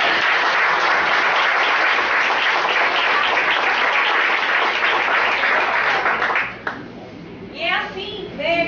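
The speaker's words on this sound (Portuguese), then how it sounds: "Gente, vamos dar um aplauso por esse..." Applause from a class audience at a Christian leadership lesson, a dense burst of clapping for about six seconds that fades out, followed by a voice and other speech.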